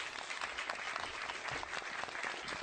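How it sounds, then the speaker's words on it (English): Sustained applause sound effect played on a radio talk show, a steady wash of clapping that runs evenly throughout without any voices over it. "That deserves an applause."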